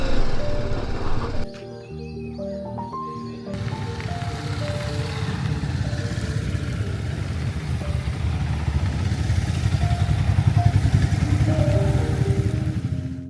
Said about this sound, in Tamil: இங்கே இருக்க மரங்களுக்கு நடுவில் நம்ம பைக்ஸை ஓட்டும் போது